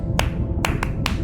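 A human voice imitates a sperm whale 1+1+3 coda from the Eastern Caribbean: four sharp clicks spaced one, one, then a quicker pair, close and dry.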